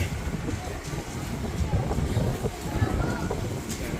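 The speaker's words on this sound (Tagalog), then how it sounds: "Ang lakas ng hangin, oh." Strong wind buffets the microphone in a constant low, roaring rumble that gusts unevenly for several seconds.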